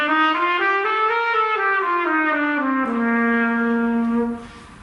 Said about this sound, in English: Now here's an example of a brass instrument.